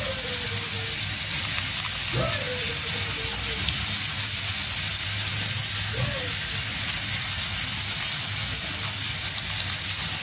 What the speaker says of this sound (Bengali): প্রেসার কুকারে শীষ উঠতেছে তো এই জন্য এত সাউন্ড হইতেছে।